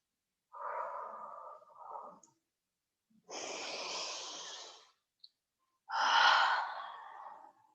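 Slow, deliberate breaths drawn in and released during a yoga flow, three long audible inhales and exhales with quiet pauses between them, close and clear with no talking.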